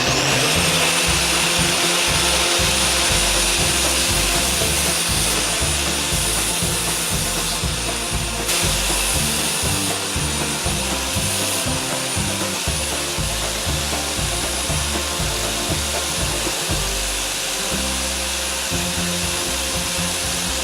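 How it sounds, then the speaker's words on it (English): An angle grinder clamped to a workbench and used as a makeshift bench grinder runs continuously at high speed, a loud steady whine with gritty rasping grinding against metal throughout. "I've rigged my angle grinder onto my workbench with a couple of clamps, and this is a poor man's grinding bench grinder"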